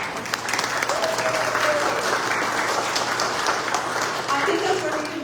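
A crowd at a convention center community gathering applauds continuously, a thick patter of clapping hands with some voices mixed in underneath.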